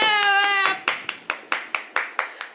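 A group claps together for participants who finished a daily money-mastery program without missing a day, starting as dense applause and then settling into about eight loud, evenly spaced claps. A few sustained sung or spoken tones sit over the opening half.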